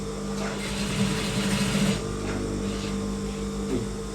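Sewing machine stitching a pant waistband belt, a continuous close mechanical whirr with rhythmic needle clatter that swells briefly in the middle.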